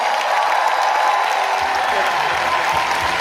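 An audience applauds after a lecture with sustained, even clapping that fills the room, with a few voices and low thumps underneath.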